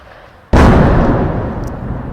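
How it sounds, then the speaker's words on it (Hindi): A single sudden, heavy blast from shelling near the LoC in Poonch hits loud and close, then a broad rumbling roar trails off slowly over the next second and a half. "देखिए कितनी नज़दीक ये धमाके हो रहे हैं और ये रुकने का नाम नहीं ले रहे हैं"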